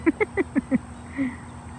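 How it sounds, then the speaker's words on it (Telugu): A water bird calls at a lake at sunset, five short rhythmic notes in quick succession followed by one longer, softer call, fairly faint and alone with no talking. "ఇక్కడ ఈ బర్డ్ మాత్రం మునకలేస్తుంది."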